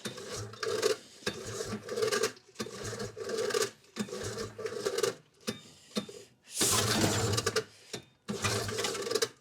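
The rotary engine of a 1972 Arctic Cat Panther 303 snowmobile is cranked while choked, making a close, raspy, rhythmic churning in repeated bursts of a second or so, separated by short pauses, without catching.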